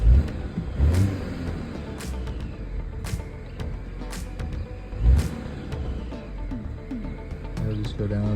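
Idling engine of a 2015 Volvo V60 with a suspected oil trap or PCV valve fault, a low rumble with rhythmic ticking pulses roughly once a second and a couple of louder surges, heard close up.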